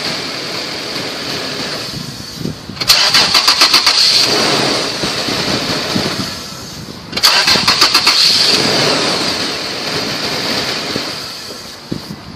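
A car engine is cranked repeatedly with an Antigravity MicroStart jump starter. Two rapid starter-motor chatters each catch into a loud, close engine roar that settles to an idle, with no talking.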